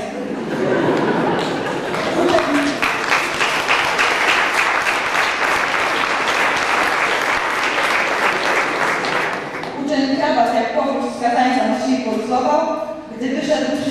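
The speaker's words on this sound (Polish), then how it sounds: "Gdy wyszedł, wszyscy brawo." School farewell ceremony for graduating students: an audience applauds loudly and steadily for several seconds, a dense wash of clapping, before it thins out under chatter and voices near the end.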